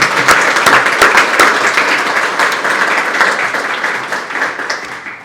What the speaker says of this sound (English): let's give all of you a round of applause for a heck of a year